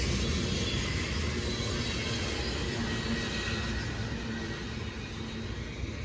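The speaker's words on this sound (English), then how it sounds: "the train for Amtrak is moving. It's departing from Depew right now" An Amtrak train pulling out of Depew station, its steady rumble and rolling wheel noise holding close and loud throughout, fading slightly near the end.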